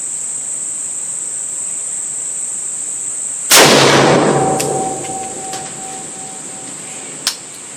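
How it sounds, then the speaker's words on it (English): A single sharp rifle shot at a 100-metre range while a thermal sight is zeroed cracks loudly and rings off slowly, set against a steady high insect drone. "We're now going to fire a 3-round group at 100 metres."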